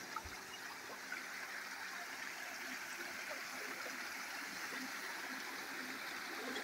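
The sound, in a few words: small river stream flowing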